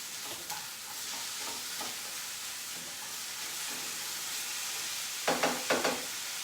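Two tablespoons of minced garlic fry in a pan with a continuous hissing sizzle while being stirred, and a burst of quick scraping clatters from the spoon lands near the end.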